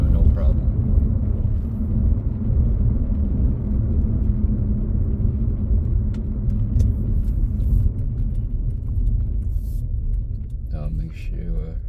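2004 Acura TL with an automatic transmission driving along, a steady low road and engine rumble with subtle changes as it moves through the gears, and voices heard faintly near the end.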